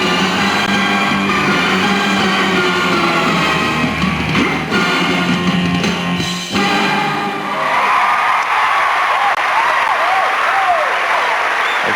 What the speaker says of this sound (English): A tremendous ovation from this crowd here at Darling Sonia Harbour.